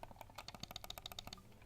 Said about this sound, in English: this is the MX Master 3S, which is the more silent clicky noise